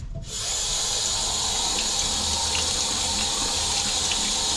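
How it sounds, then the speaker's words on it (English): A garden hose runs water through the block of an old engine on a 1969 Thunderbird tri-hull boat, a steady close rush of flowing water that starts abruptly and continues without break. "I think I'll run the garden hose through it right now though"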